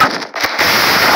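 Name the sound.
explosion of an exploding pumpkin in the video game Minecraft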